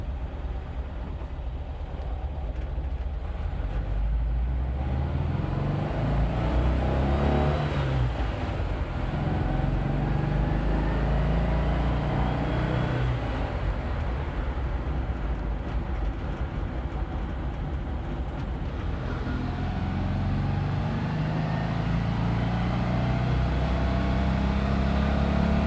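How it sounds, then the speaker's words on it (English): A car engine runs steadily while driving under its own power, a loud, close, continuous roar with road and drivetrain noise, climbing in pitch as it is revved high. "I revved it pretty high"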